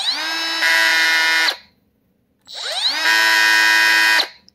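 Milwaukee cordless cut-off tool spins up twice, each time a loud, close, high whine that holds steady for about a second or more and then winds down, with a short silence between the runs.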